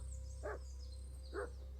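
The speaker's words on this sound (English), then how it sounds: "Oh, a dog." A dog in the video game Kingdom Come: Deliverance II gives two short barks about a second apart, moderately distant over a steady low hum of ambience.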